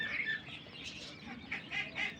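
Ten-day-old European White Giant coturnix quail chicks chirp together in a brooder, a dense flock of high, repeated peeps rising in clustered bursts, fairly close and with no talk.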